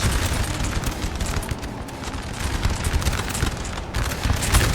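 Musket fire from light infantry units in Napoleon: Total War during the Battle of Eylau, 1807, a dense continuous crackle of volleys and scattered shots rolling without pause, loud and busy throughout.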